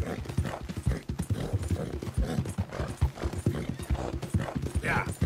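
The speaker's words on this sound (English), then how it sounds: "Horse sounds rough." A horse in Red Dead Redemption 2 trots along with rapid, rhythmic hoof clip-clops close up, and a rough whinny comes near the end while people talk over it.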